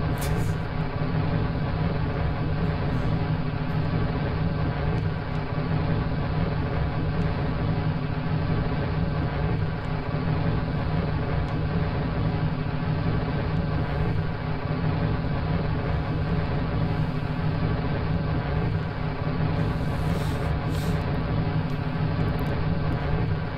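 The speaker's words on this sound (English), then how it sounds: "These engines are pretty loud, sorry." Rocket engines in Kerbal Space Program give a loud, unbroken roar that holds steady and dense for the whole stretch, with no gaps or voices.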